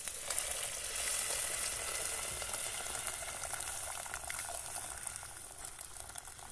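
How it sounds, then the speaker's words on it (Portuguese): Water boils in a pot on a stove before pasta is added, a steady, soft bubbling hiss that runs unbroken with no talking. "Eu tô fervendo a água separada pra economizar o gás"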